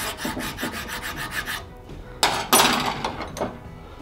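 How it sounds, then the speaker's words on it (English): A hand file rasps back and forth on the notches of an original Mini rear brake backplate, with rhythmic strokes followed by a few louder, harsher scrapes, close up and without speech. "we just need to relieve that with a file."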